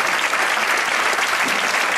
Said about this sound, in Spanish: Aplauso fuerte para ellos.